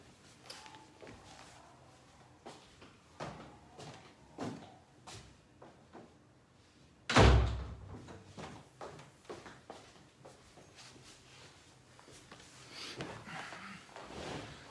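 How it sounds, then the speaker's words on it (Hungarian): A door slams shut with one loud, sharp thud midway through an otherwise quiet indoor room, preceded and followed by soft clicks and small handling noises. "csak becsukom az ajtót"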